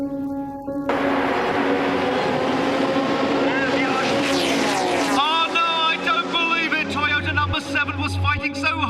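An Audi race car engine at the Le Mans 24 Hours in heavy rain, roaring loud and close with rising and falling revs as it passes, while a commentator talks over it.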